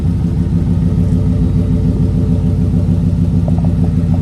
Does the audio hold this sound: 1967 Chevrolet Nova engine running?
yes